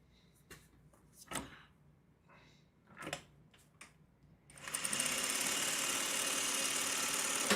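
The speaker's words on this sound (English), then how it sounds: "Okay, so I'm gonna sew this one on." A sewing machine joins a quilt piece, starting after a few soft handling knocks and then running continuously at a steady fast hum for the last few seconds.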